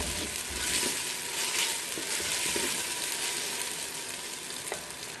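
Masala for handi kabab fries in a pot with a bright, steady sizzle and crackle, a few faint stirring knocks scattered through the continuous hiss and no talking.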